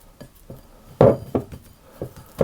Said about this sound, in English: what I'm going to do is I'm going to put that into a bowl